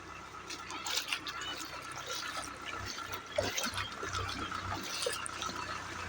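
Water sloshes and splashes continuously as a flooded road is crossed on the way home, a close, uneven wash of liquid with brief louder surges.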